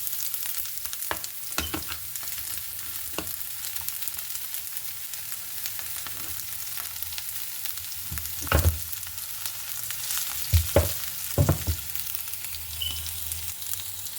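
Onions sizzle in a pan during tempering, a soft continuous frying hiss with a few scattered louder clatters and scrapes of stirring.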